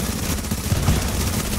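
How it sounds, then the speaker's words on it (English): Machine gun fire in The Division, a dense, continuous rattle of rapid shots that stays steady and fairly loud throughout. "I'm legit gonna die by this machine gun"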